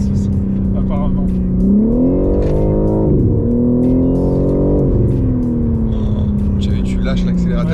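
A BMW M3 accelerates hard, its engine tone climbing in pitch, dipping on shifts, then rising again, loud and close under French conversation.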